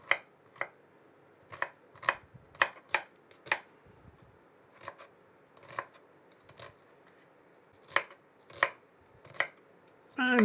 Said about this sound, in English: Finely chop the onion.